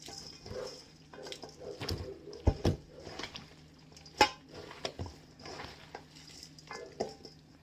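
Dandelion kimchi being mixed by hand into warm rice porridge outdoors, giving soft wet stirring and squelching with a few sharper knocks against the bowl, while birds call faintly in the background.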